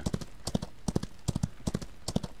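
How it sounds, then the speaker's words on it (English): In the Outlaws of the Old West video game, a horse's hooves clip-clop in a steady, rhythmic walking gait, with paired hoof strikes repeating clearly and close up, and no other sounds alongside them. "There should be another horse over here."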